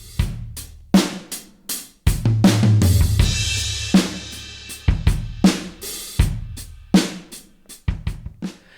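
A drum kit after compression, with punchy kick and snare hits in a steady groove, cymbal wash and a sustained low bass tone partway through, loud and even with no talking.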